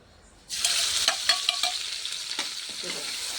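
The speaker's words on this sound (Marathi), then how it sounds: "तर आता डायरेक्ट हे मी तेलात टाकणार." Crushed cumin, green chillies and garlic drop into hot oil for a dry dill and fenugreek greens dish. A sudden loud sizzle starts close by, with a few clinks of stirring, then settles into steady frying.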